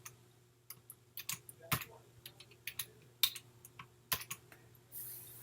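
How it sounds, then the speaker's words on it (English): Keys are typed on a computer keyboard in a quiet room, with scattered light clicks and a few sharper, louder keystrokes forming a short irregular burst, then a brief soft hiss. "I'm going to type nav."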